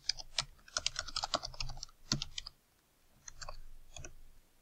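Fingers typing on a computer keyboard to fill in a web contact form, quick bursts of close key clicks separated by short pauses, fairly quiet.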